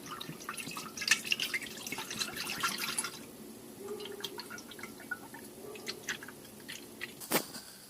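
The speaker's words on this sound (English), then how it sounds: "we got the fluid here in the motive bleeder, and we'll just go ahead and pour it in." Brake fluid is poured into a Motive pressure bleeder during a Dodge Charger brake fluid change, a faint trickle with scattered drips, clicks and plastic handling noises close by, ending in a sharp click.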